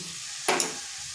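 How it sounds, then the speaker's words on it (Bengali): Spice paste with Kashmiri chili powder and sugar is stirred in a hot pan, giving one short sizzling scrape over a steady low frying hiss. "মশলাটা ভালো করে কষিয়ে নিচ্ছি"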